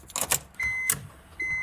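BMW ignition key cycled as the car's electrics switch on: a couple of quick clicks, then steady electronic whines and a faint motor hum that drop out and return, heard close with no talking.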